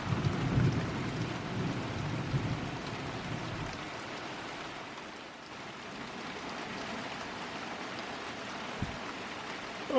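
Steady rain falls over a garden in a storm, with rumbling thunder heavy at the start and fading into a constant patter of drops, with no voices present.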